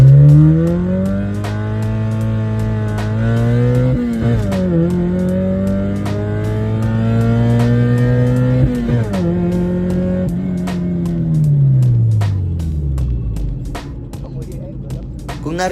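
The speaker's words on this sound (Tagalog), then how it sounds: "Kung narinig nyo, hindi naman siya sobrang nag-i-slide yung clutch." Car engine revving hard through a power shift with a slipping clutch, the pitch climbing and sagging in several long surges, interrupted by sharp breaks, with a loud continuous drone and faint talk in the background.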